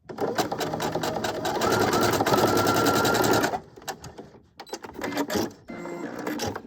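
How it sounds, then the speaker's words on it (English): A sewing machine runs in a fast, steady burst of rapid needle clatter while stitching a fabric seam, then stops and gives shorter stuttering runs with small handling noises between. "I'm just going to give it a quick stitch."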